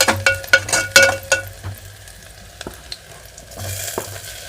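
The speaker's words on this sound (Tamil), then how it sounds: "இப்போ நம்ம இந்த வெட்டி வச்சுருக்க 3 தக்காளியை போட்டு இது கூட நல்லா வதக்கிக்கலாம்." Shallots and tomatoes sauté in a hot pan for a brinjal and chickpea tamarind kuzhambu, a steady close sizzle marked by bursts of spoon stirring and metallic clinks, with no talking.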